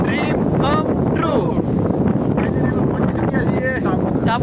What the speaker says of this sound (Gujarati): ઓહો પવન એટલે કેટલો પવન